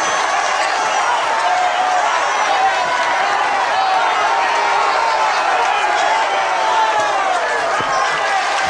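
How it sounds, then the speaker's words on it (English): A wrestling crowd cheers and roars in a dense, continuous wall of noise after a pinfall finish, loud and sustained, with voices blended into the din. "And the crowd mad, going mad here,"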